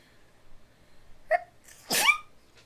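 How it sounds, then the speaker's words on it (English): A single sharp sneeze bursts out nearby after a brief inhaled catch, then fades into quiet room tone. "I'm gonna sneeze"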